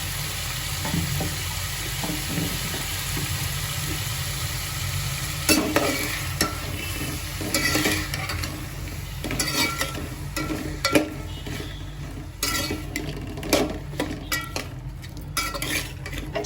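Tomato, cauliflower and vegetables for pulao stirred in a pan, with a steady sizzle under repeated scraping and clinking of a spoon against the metal, some strokes louder and closer than others.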